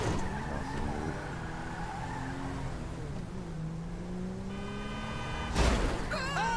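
Tires squeal and skid in a PS4 driving game, a sustained screech over steady engine noise that ends in a sharp impact-like burst.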